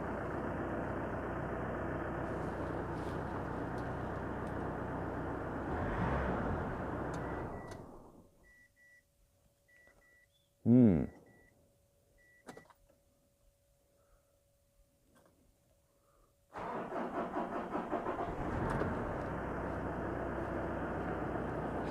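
A Ford Ranger Wildtrak 3.0 with a fuel problem runs steadily, then falls silent; after a short cranking burst and a pause, the engine catches and settles into a strong, even idle close by.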